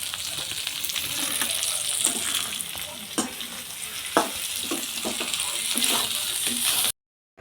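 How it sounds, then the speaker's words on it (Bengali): Fish frying in hot oil in a home kitchen gives a loud, steady sizzle, broken by a few sharp clinks and scrapes of stirring, with a voice now and then over the frying. "এখানে দেখাও এই মাছগুলো ভাজবো"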